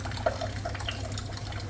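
Water trickles through a Vaillant boiler that has a faulty pressure reading, a steady low hum under faint dripping and flowing sounds, close by and with no talk.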